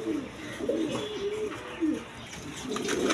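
Large pigeons, a mix of males and females kept for sale, coo repeatedly in soft rolling bursts, fairly close, over a steady background hum with no one speaking.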